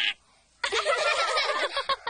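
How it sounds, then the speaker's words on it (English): A duck in a kids' cartoon gives a loud, raspy burst of quacking and squawking lasting over a second, followed by a couple of shorter squawks. "Oh, do not mind the duck."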